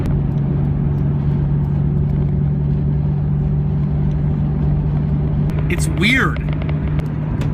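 A 25-year-old right-hand-drive Nissan Skyline GT-R cruising along, its steady engine and road rumble droning continuously up close while a person speaks briefly near the end.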